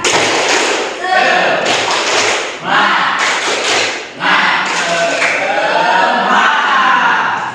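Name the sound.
students doing a rhythmic spirit clap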